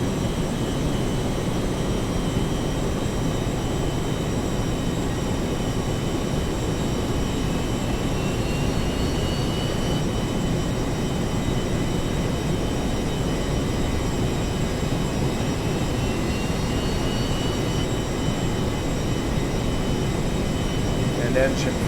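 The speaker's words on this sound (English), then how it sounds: "All engines are now running." The four jet engines of a B-1A bomber, all running, in a flight video game, make a constant, loud, even roar with a faint high whine that holds steady throughout.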